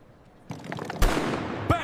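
Starting gun fired at the start of a championship race, one sharp loud bang cutting through a voice and background noise, followed by another sharp transient.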